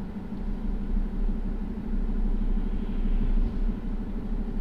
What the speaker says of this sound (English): Now we're climbing another hill, so you'll notice that go up again.